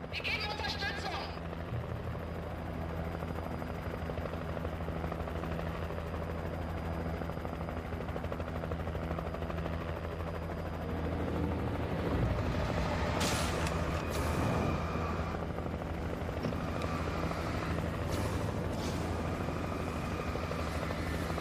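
Helicopter in the Alan Wake video game, a steady low rotor drone running throughout with game sounds and bursts of noise over it, and a voice speaking briefly.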